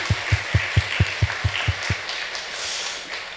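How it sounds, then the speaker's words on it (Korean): A church congregation claps together in a steady rhythm of about nine beats that stops, leaving a faint room hum. "그 가정을 우리 축복하면서 박수하겠습니다"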